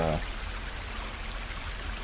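A video game waterfall rushes steadily near a stone walkway, a broad, even wash of falling water that fills the whole stretch, with a brief tonal game sound at the very start.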